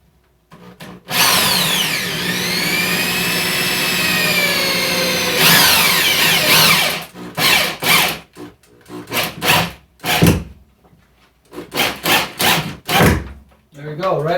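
A power drill drives a handhold into a wall stud, running in one long steady whine for several seconds, then breaking into short repeated bursts and stops with brief pauses between them.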